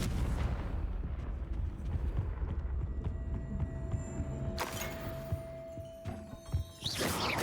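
A Confringo fire blast spell explodes in Hogwarts Legacy over a dense, rumbling backdrop of game sound, with a sharp bright burst a few seconds in and another blast near the end.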